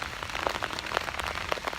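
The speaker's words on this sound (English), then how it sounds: "And I'll just sit out here in the rain with Nico until he decides he has to go." Rain falling outdoors, a dense patter of drops striking surfaces nearby with irregular sharper taps, steady and moderately loud, no voices.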